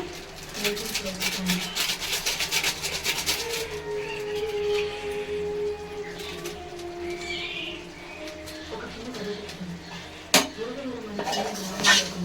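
Chicken being stirred with chicken masala and biryani masala in a pot, with repeated metal scraping and clinking of a spoon on the pot, plus a sharp knock near the end, under a speaking voice.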